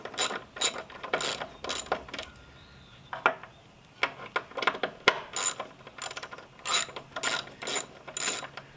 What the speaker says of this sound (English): So we're just going to take this one extra idler pulley off, clean it out, and really make sure the bearing is okay.